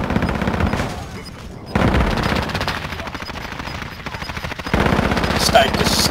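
Gunfire from a battle royale video game, with rapid bursts of automatic fire cracking in close, loud volleys separated by short gaps, while a player talks over it.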